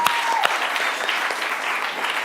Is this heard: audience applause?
yes